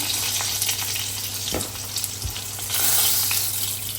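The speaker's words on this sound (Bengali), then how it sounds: "বেগুনগুলাও ভাজা হয়ে গেছে" Eggplant slices fry in a pan with a steady, close sizzle and crackle throughout, with a few brief louder pops and stirring noises and no talking.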